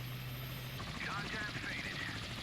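A helicopter flies in the naval video game Sea Power, a steady whirring rotor drone with a faint wavering tone, heard over the game's background sound.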